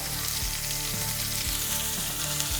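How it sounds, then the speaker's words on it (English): Oil sizzles loudly on a hot cast iron griddle warming leftover ribeye for cheesesteaks, a dense, steady crackle with soft rhythmic scraping underneath. "Listen to that sizzle, son."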